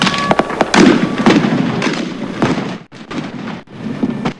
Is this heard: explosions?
yes